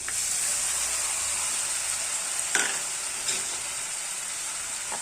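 Ground masala paste frying with onions in a pan for a potato curry, a steady close sizzle with two brief stirring scrapes partway through.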